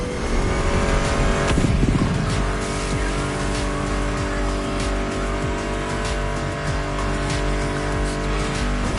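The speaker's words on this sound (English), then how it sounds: "Meshes well with the sound of the engines, you feel me?" Muscle car engines from The Crew Motorfest racing game roar continuously, loud and close, blended with a steady music track, with a brief surge of revving and tire noise near the start.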